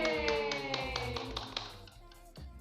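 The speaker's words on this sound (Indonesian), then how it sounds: "Tepuk tangan dulu." An audience at a school event claps in sharp, fairly steady taps for three top graduates. The applause is moderately close and fades out after a couple of seconds.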